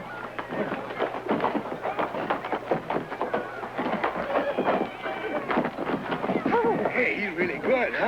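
A horse gallops in a bareback event in a rodeo arena, its hoofbeats thudding under steady talk from an announcer and crowd noise.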